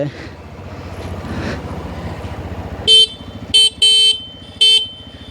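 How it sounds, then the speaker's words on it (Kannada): A talking voice, then four short, sharp honks from a TVS Raider motorcycle horn, close and loud, the second and third in quick succession. "ಹಾರ್ನ್ ಬಗ್ಗೆ ಹೇಳಬೇಕು ಅಂತ ಹೇಳಿದ್ರೆ"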